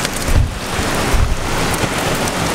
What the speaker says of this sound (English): The ocean noise actually drowns out the car noise.